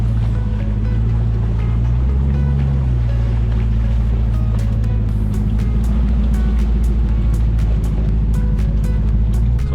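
A Jeep Gladiator with a Demon engine swap rumbles slowly through shallow water off road, steady low engine drone with sloshing and splashing throughout, close and loud.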